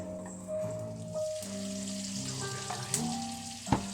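Melted butter with garlic sizzling quietly in a hot pan, a soft steady fry with a few clinks and light stirring sounds, low level throughout.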